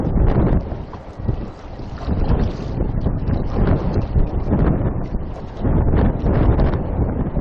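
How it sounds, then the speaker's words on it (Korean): Strong gusting wind buffets the microphone on a breakwater in Jeju during rockfishing, a loud continuous roar that surges and eases in waves with no voices over it. "와, 바람 부는 거 봐라요. 어마어마합니다, 바람이."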